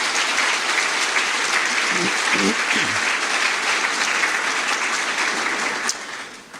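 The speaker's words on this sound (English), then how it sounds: "So I'd like to give him one more round of applause and thank you for all your service." Luncheon audience gives the retiring superintendent a loud, sustained round of applause, with a few voices briefly audible in the crowd before the clapping tapers off at the end.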